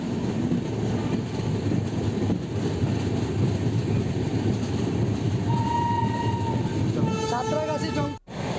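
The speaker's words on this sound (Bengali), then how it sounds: "আমাদের স্টেশন সাঁতরাগাছি জংশনের তিন নম্বর প্ল্যাটফর্ম থেকে ছেড়ে চলে যাচ্ছে" Tamralipta Express train pulling out of platform three at Santragachi Junction, a steady loud rumble and wheel noise throughout with a horn-like tone midway and a brief squeal of brakes or wheels near the end.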